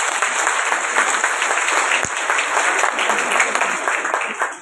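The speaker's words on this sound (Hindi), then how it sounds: "मैं एक बार आप सबसे चाहूंगा कि हमारे अतिथि का जोरदार ताली से स्वागत है" Audience at a BJP women's conference in a hotel hall in Ajmer applauding to welcome a guest, steady loud clapping throughout with a single sharp thud midway, tapering off at the end.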